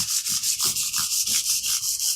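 Hand sanding a guitar neck during a refret, brisk rhythmic back-and-forth scratchy strokes, about four per second, close and loud with no talking.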